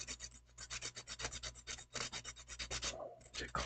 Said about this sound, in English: I'll get in there with the sandpaper a little more closely